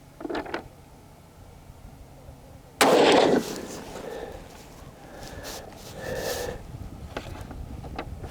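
A single loud, sharp rifle shot from a CZ X39 firing Golden Tiger 124 grain ammunition at an outdoor range, close by, followed by quieter rustling and handling noise.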